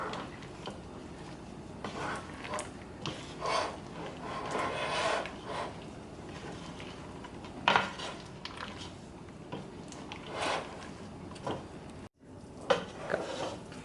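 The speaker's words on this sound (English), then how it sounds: "we're going to keep stirring because we don't want the chocolate chips to burn to the bottom" A wooden spoon stirs melting chocolate chips in a pot for rocky road fudge, giving soft scraping and light clinks that recur irregularly at a fairly quiet level, with no talk.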